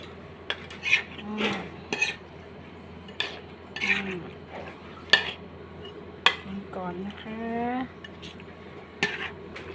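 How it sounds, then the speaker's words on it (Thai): A utensil scrapes and clinks against a pan while shrimp and luffa gourd are stir-fried, with irregular knocks and stirring strokes close by and a voice talking at times. "วันนี้ผัดกุ้งใส่บวบค่ะ"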